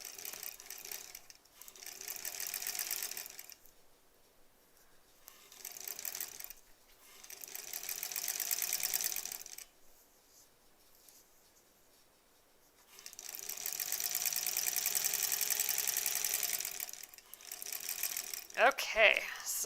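A sewing machine stitches quilt-as-you-go sampler blocks in several bursts of steady, rapid mechanical whirring separated by quiet pauses, ending with a few louder clunks.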